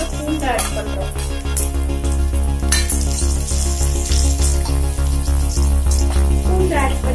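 Cut garlic drops into hot oil in a pan while cooking banana flower stir-fry, giving a steady, close crackling sizzle that runs continuously under a backing of music.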